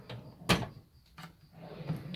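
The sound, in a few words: toolbox drawer opening or closing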